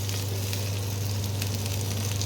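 Cauliflower frying in a pan gives a steady, close sizzle with a continuous crackling hiss and no pauses.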